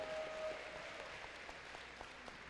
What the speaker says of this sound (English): So let's all cheer for Nathan.